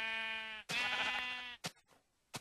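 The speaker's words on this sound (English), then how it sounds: "Oh, that sheep." A sheep in the video game Minecraft gives two close, clear bleats. Each one is a sustained, wavering call, and short clicks follow.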